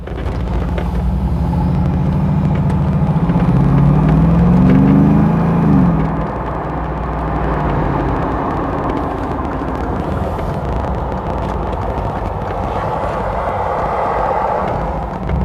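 A 2015 Mercedes-AMG G63 with a V8 drives along, a loud steady engine drone and road rumble with a brief rising whine early on.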